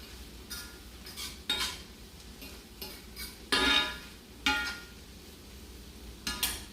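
Spinach gnocchi being stirred in a pan over medium-high heat, with a spoon scraping and clinking against the pan in irregular bursts, close and moderately loud over a faint sizzle.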